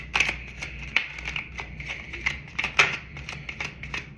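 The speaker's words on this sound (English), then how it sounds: "I'm going to go ahead and let a few cards lay out." Tarot cards being laid out give a series of crisp, light flicks and slaps of card on card, irregular and close, with soft shuffling between them.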